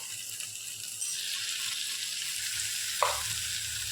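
Dry chicken masala with gravy sizzles steadily in a pan, a constant hissing fry with a soft scrape of stirring near the end, heard close and without any talking.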